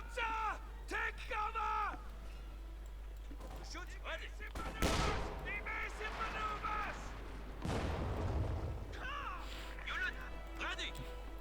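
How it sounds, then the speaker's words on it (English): Infantry guns firing in Company of Heroes 2, with bursts of gunfire and explosive thumps mixed into busy battle sound, heard under continuous commentary from a caster. "Infantry guns firing away."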